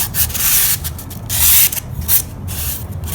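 Steam-bent wood for an iPad stand is sanded by hand with rough, continuous rubbing strokes, loud and close, with no voices.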